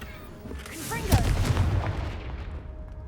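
A Confringo blasting spell from the wizarding game Hogwarts Legacy erupts in a heavy booming explosion with a crackling tail that fades away, preceded by a brief spoken incantation and magical whoosh.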